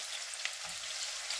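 Ginger frying in a pan for butter shrimps gives a steady, close, unbroken sizzle throughout, with no voices over it.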